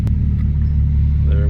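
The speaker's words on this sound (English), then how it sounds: "now the idle is good" A stock Infiniti G35 sits at a steady, smooth idle after an idle fix. The low engine rumble is close, continuous and even throughout the short stretch.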